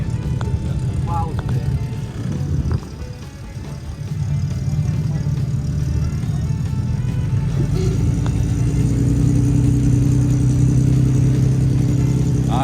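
A vehicle engine hums steadily at medium pitch while it tows a stuck motor home with a rope. The engine rises slightly toward the end, and people talk over it.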